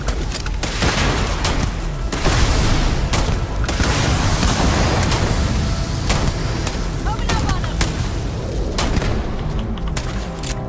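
Starfield combat fills the scene with rapid bursts of gunfire and heavy booms. The shots crack again and again in an irregular rhythm, loud and busy, and voices speak in among them.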